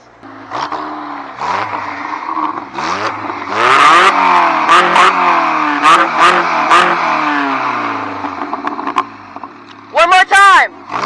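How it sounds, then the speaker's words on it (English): A K20 engine swapped into a 1987 Pontiac Fiero GT revs up in rising bursts while people talk over it, the roar swelling and falling several times. "No, but you hear how it revved up?"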